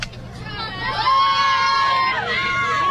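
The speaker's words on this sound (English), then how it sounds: "Big crowd here tonight at Frisco Field." Big crowd at a high school district championship baseball game at Frisco Field, a steady roar of cheering and shouting with children's voices, rising and holding loud throughout with scattered whistles on top.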